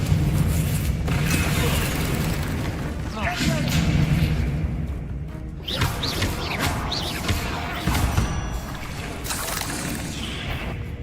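Explosive fire spell blasts in Hogwarts Legacy boom and crash in a dense, loud battle mix, several impacts following one another with rumbling debris between them, while voices talk over the action.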